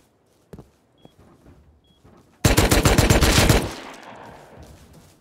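Video game gunfire: a sudden loud burst of rapid automatic shots lasting about a second, with a few faint taps and clicks before it and fading echoes after, no talking.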